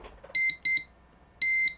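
An electronic doorbell call button on an ESP32-CAM Arduino project gives three loud, clear beeps, two close together and one after a short pause, with no talk.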